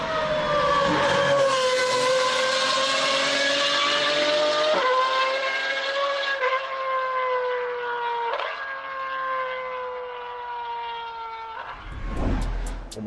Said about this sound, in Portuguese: O motor que equipa o Waira é o já conhecido V12 alimentado por 2 turbos